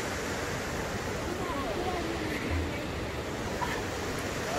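A big river flows below a church, giving a steady, broad rushing roar that fills the whole stretch without pause.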